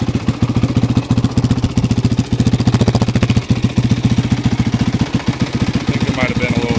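A 2007 Honda CRF450X dirt bike engine runs close by with a steady, rapid thumping beat that stays loud and even throughout, with brief dips and a short high squeal near the end.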